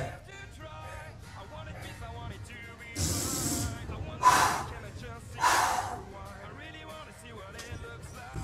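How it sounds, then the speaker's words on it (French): Heavy out-of-breath panting from a person worn out after a rapid workout session, with several loud breathy gasps bursting through steady background music. "Je suis essoufflé"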